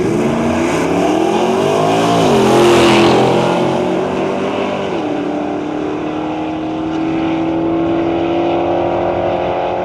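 A white Nova launches down a drag strip at a nostalgia drag racing meet in Cayuga, Ontario, its loud engine roaring and revving through gear changes before settling into a sustained drone as it pulls away.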